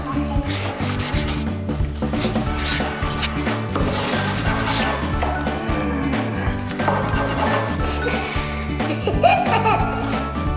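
Coloured markers or pencils rubbing and scratching on paper in steady strokes, with children's chatter and giggling mixed in over other background sound.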